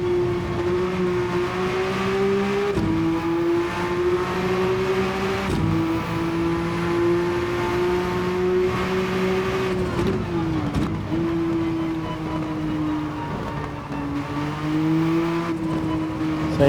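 A race car engine in Gran Turismo 7 during a Spa endurance race on a wet track, its steady high whine rising and dipping through gear changes, loud and alone.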